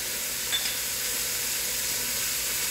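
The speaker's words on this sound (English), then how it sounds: "So I'm going to continue to sear them" Oxtail pieces searing in a hot pan for braised oxtail stew, giving a steady, dense sizzle that stays even and close throughout.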